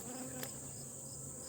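A steady insect buzz hums continuously, close and even, like bees droning around a hive with a single faint click partway through.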